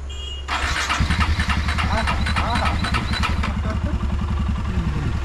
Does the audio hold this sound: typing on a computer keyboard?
no